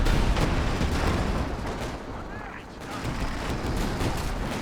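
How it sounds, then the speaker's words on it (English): Bombs exploding in a Company of Heroes 2 battle, a dense rumbling barrage of blasts and rattling gunfire, steady and fairly loud throughout, with a voice talking faintly beneath. "Here come the bombs by Spade, trying to force the Allies off the center this time."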